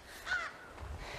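A crow caws once at night outdoors, a single harsh call standing briefly above a low, noisy background rumble, moderately distant, with no voices.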